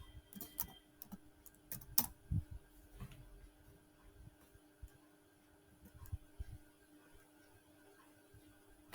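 Keys clicking on a computer keyboard while code is typed, a scatter of soft, irregular taps with a few sharper clicks, fairly quiet against a low background hum.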